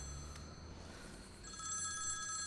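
A telephone bell rings in a Tamil comedy movie scene, a steady electronic trill that grows brighter and more layered partway through, heard alone over a low background hum.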